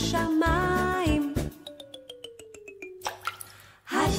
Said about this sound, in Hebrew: טיפה אחת נפלה לה פתאום מן השמיים.